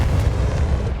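A Confringo fire spell blast in Hogwarts Legacy lands as a loud, sustained booming burst with a heavy low rumble that fills the moment, with no talk over it.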